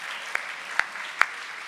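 A few scattered, sharp handclaps from an audience at a storytelling show, three isolated claps spaced about half a second apart over a quiet room.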